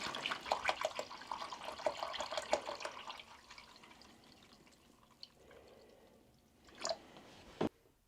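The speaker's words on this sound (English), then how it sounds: "I'm going to submerge it in this liquid" A rusty hammerhead is lowered into a container of rust-removal liquid, giving soft watery sloshing and dripping in the first three seconds, then quieter trickles and a couple of sharp clinks near the end.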